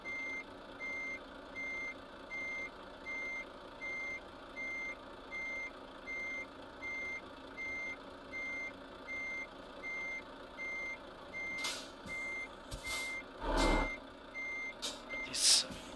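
A Renault truck in Euro Truck Simulator 2 reverses with a steady, evenly spaced electronic beep over a low engine hum, and several sharp bursts of air hiss break in near the end.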